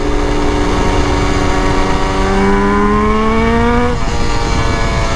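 A Yamaha RD350 two-stroke cafe racer motorcycle sweeps past with a loud, steady engine note whose pitch glides downward as it passes, dropping sharply near the end.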